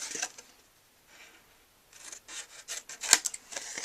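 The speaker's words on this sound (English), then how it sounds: "from the rounded top piece, we're going to cut these 2 tabs in half" Scissors snip through the paper tabs of a rubber-stamp craft gift box, cutting them in half. A few short, crisp cuts and rasping snips come close by with quiet gaps between them, with no voices.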